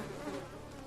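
Bees buzzing in the fantasy video game Enderal, a steady, continuous insect drone that holds close and fairly loud for the full second with no talk over it.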